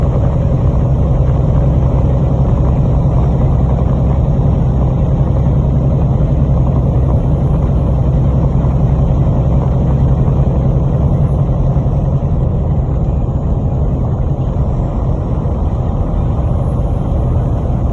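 Car interior while driving along a road, a steady loud engine hum and road rumble holding constant throughout with no talk.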